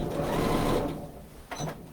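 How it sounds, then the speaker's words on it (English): A sewing machine lock stitches back and forth over the middle seam of a shopper tote bag, a close mechanical whirring burst, then a brief pause and a second short run. "Now over that middle seam, I'm going to lock stitch again."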